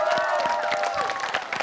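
An audience claps and cheers at a presidential candidate debate venue in Jakarta Convention Center, a dense burst of applause from a crowd of supporters with voices and shouts mixed through it.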